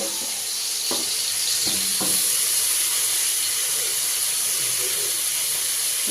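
Food frying in a pan on a gas stove, a loud continuous hissing sizzle with a couple of brief utensil knocks early on.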